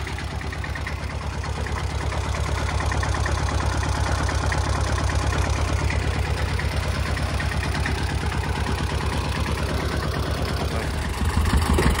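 Old Robur tractor engine running at a steady idle, a close, even low-pitched chugging with regular pulses that continues throughout and picks up slightly near the end.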